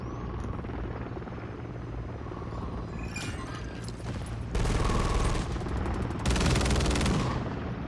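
Helicopter rotor thrum runs throughout a Call of Duty match, joined midway by loud bursts of automatic gunfire that swell near the end, with no talking.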